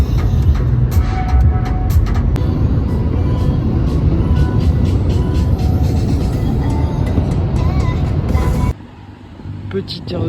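A Porsche 991 phase 2 sits at a motorway rest area near Stuttgart, with a steady broadband roar of car and traffic noise that cuts off abruptly near the end.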